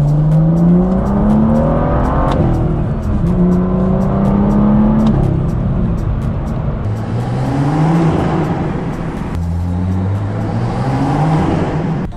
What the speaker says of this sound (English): I really, really like the way that this engine sounds, especially with an exhaust.